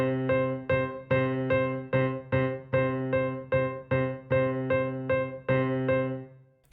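A piano plays a steady rhythm of eighth and sixteenth notes, sounding a dozen or so clear repeated chords. Each one rings and decays before the next is struck.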